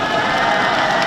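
An audience in a gymnasium in Wonju gives a singer a dense, steady wash of applause and cheering that fills the hall, with no voice standing out.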